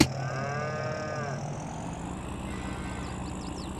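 Cattle on a hillside cow pasture in the farming game Griffin Indiana moo in a long, drawn-out low call, followed by a second fainter moo over a steady background hum and faint chirps, with no talking.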